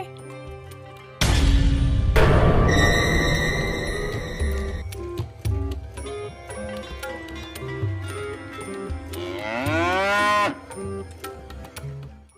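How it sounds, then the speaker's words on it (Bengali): A cartoon cow in a Bengali horror fairy-tale animation gives a loud, drawn-out moo near the end, rising then falling, over sustained background music and sound effects. "এখানে তো গরু ডাকার কোনো কথাই নেই।"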